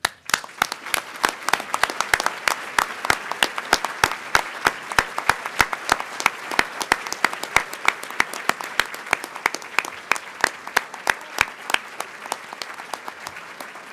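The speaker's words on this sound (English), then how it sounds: "I'll just ask you to hold your applause for a second" An audience at a memorial award ceremony applauds an ambassador named as winner, the hall filling with steady, crisp clapping that stays even for about fourteen seconds.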